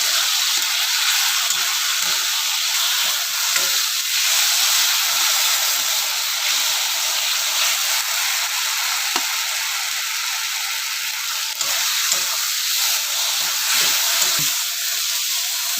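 Spice paste for a Bengali fish curry sizzles and hisses steadily in oil as it is sautéed, a continuous close frying noise with occasional faint stirring taps throughout.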